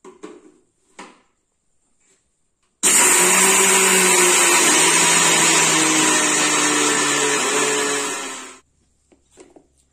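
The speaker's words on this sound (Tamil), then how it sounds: "இதை இனி நம்ம ஒரு மிக்ஸி ஜார்ல போட்டு அடிச்செடுப்போம்." A mixer grinder roars loudly for several seconds, blending roasted peanuts for homemade peanut butter, dry and gritty, then cuts off abruptly; brief clatter before and after.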